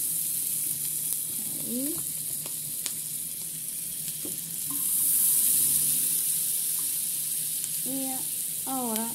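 Butter with garlic sizzles steadily in a frying pan, a close and constant crackling hiss throughout, while a person briefly speaks over it and utensils make faint clinks.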